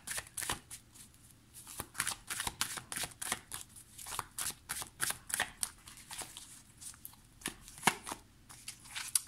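Tarot cards being shuffled by hand, a long run of soft, riffling slaps and flutters in an irregular rhythm, close and fairly quiet, with no voice.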